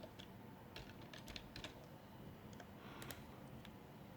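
A file name is typed on a computer keyboard, a quiet run of irregular, clicky keystrokes in short bursts, close and alone without speech.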